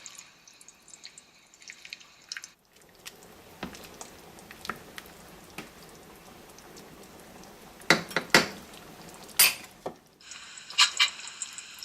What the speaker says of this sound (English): one of the last things you want to do is chop up some chives